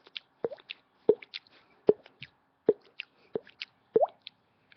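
A mouth imitation of dripping water: six sharp plopping drops spaced about every second, each a quick descending pop close to the listener, with faint clicks between and no talking.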